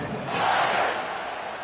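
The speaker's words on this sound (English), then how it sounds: "this crowd is feeling themselves after that last drive" A college football stadium crowd roars as the kickoff unit takes the field against Mississippi State, a dense, sustained cheer that swells near the start and then holds steady, loud and close.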